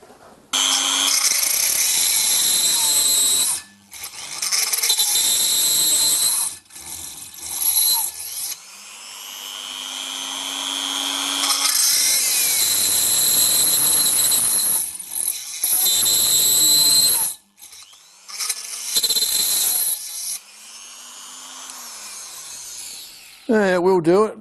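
A budget electric die grinder whines at high speed, cutting steel in long loud passes broken by pauses and spin-downs, with someone talking in between.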